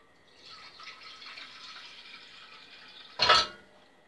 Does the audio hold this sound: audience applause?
no